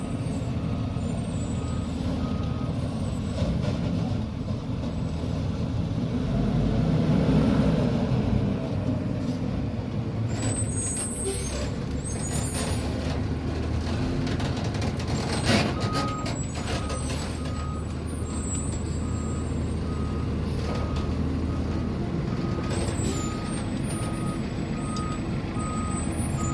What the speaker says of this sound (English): Sorry about the noise. Trash day today.